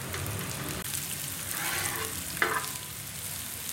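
Mutton liver frying on a tawa with chopped onion, a steady soft sizzle with occasional scraping stirs, close and fairly quiet, no talking.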